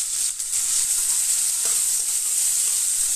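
Raw chickpeas and vegetables with turmeric and salt fry in a pan for a Bengali khero curry, giving a loud, steady, unbroken sizzle throughout.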